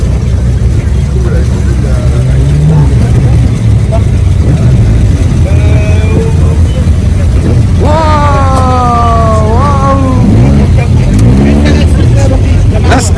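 A 1975 Bricklin SV-1 sports car drives past at a vintage car gathering in Vincennes, its engine rumbling and revving up in rising, pitch-climbing bursts near the end. People talk over the engine noise.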